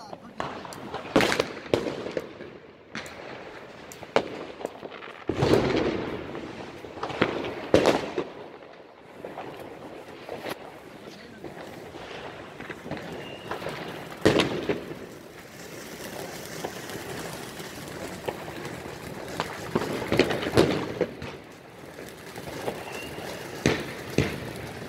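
Repeated loud firecracker blasts and crackling New Year's Eve fireworks burst close by at irregular intervals, several sharp bangs standing out over continuous popping, with people shouting between them.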